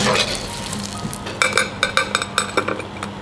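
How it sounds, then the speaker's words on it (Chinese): Crab meat dusted in starch crackles in hot oil while deep-frying, a steady close sizzle with a few sharp pops and light clinks of utensils against the pan toward the end. "然后把它下锅炸一下，先等它炸定型以后再去动它哦，炸的好香哦"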